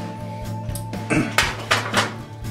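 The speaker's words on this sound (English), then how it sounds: "See if I can flip these. I'll use these tongs" Metal tongs clink and tap against a pan while pork loin New York chops are flipped, a few close, bright metallic knocks over a faint steady hum.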